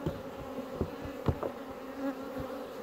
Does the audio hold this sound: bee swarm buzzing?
yes